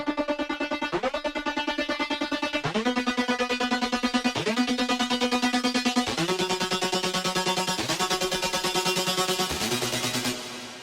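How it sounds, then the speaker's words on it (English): A metal synth in a remix, processed with Camel Crusher distortion and reverb: loud, bright sustained tones pulsing in a fast, even rhythm, shifting pitch every second or two across a string of notes, alone and without voices. "I bring in two new synths, one which I call metal synth,"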